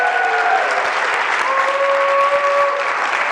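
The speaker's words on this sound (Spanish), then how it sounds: "Dale un aplauso con ganas." Church congregation applauding steadily for a few seconds, dense sustained clapping from a crowd with faint whistle-like tones over it.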